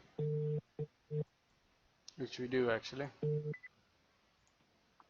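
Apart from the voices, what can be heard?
telephone call tones while placing a phone call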